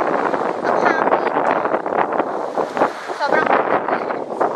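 Strong wind buffets the microphone in a steady roar at Anawangin Cove in San Antonio, Zambales, with a voice speaking faintly underneath.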